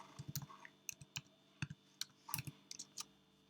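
Quick, light clicks of a computer keyboard as a short terminal command is typed, ending with the tap of the enter key; close and fairly quiet, with uneven rhythm.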